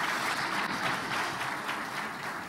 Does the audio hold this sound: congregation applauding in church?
yes